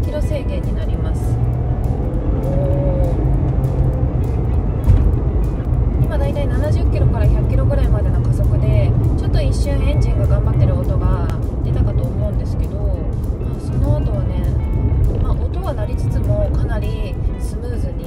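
Nissan Aura NISMO accelerating on a straight road with a 100 km/h limit: a steady engine and road drone heard from inside the cabin, running under continuous talk from the driver.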